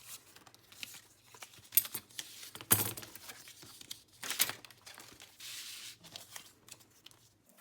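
Paper being trimmed for a paper bag folio journal, heard as quiet, close crinkling and scraping with a few sharper snips and rustles.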